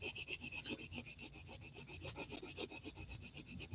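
White coloured pencil shading on paper, a close, quiet, rhythmic scratchy rubbing of quick back-and-forth strokes that continues steadily throughout.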